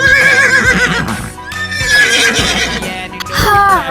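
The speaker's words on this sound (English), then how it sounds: "Horse" A horse neighs and whinnies loudly and up close, with a long shrill wavering call followed by a second rising whinny near the end.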